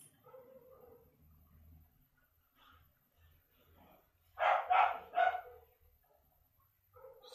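Several quick barks from dogs come in a burst partway through, fairly close, over faint low background noise and softer scattered sounds.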